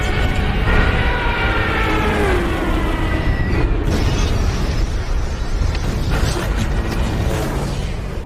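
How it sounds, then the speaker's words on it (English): Bombs dropped by German planes explode in a dense, continuous roar of booms and rumbling blasts, loud and close, with no speech. "The devastating explosions leveled many buildings without giving them a chance to fight back."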